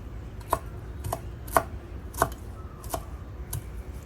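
A knife chops coriander and culantro on a board in a slow, steady series of about eight taps, close up over a faint background hum.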